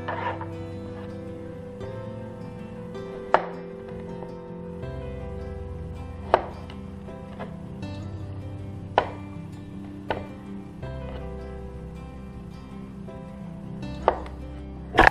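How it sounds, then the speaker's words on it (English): A knife slices pears on a cutting board, with several sharp, distinct board taps spaced a few seconds apart over a soft background hum, close by and with no talk. "So here's the first two pears all cut up"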